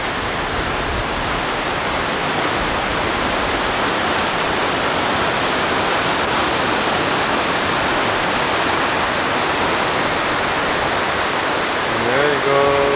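A waterfall near Port Angeles pours with an unbroken, dense roar, loud and close, holding steady for the whole stretch with no voices over it.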